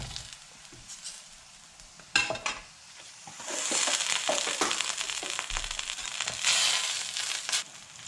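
Butter sizzling and crackling in a hot frying pan before samosa filling is cooked, a steady hiss with scraping and stirring clatter of a utensil against the pan.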